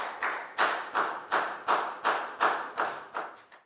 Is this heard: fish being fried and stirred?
no